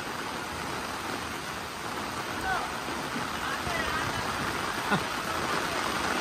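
Heavy typhoon rain and rushing floodwater in rural Bulakan, Bulacan, Philippines, a steady loud wash of rain and flowing water with a few faint distant voices underneath.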